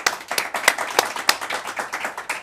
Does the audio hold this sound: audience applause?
yes